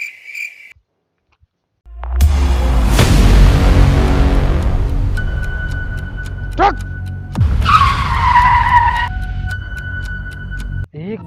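A motorbike rushes in and skids hard to a stop, with a long tire screech and engine roar followed by a brief squeal and a higher whining tone, loud and close, ending with a sharp thump.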